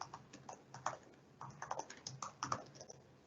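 Code is typed on a computer keyboard in quick, uneven bursts of soft close key clicks, with brief pauses between runs of keystrokes and no talking.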